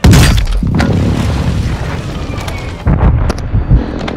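Airstrike explosion in a first-person shooter video game: a loud, sharp detonation opens with a heavy boom and debris rumble that decays, followed by further close thumps and crackling impacts.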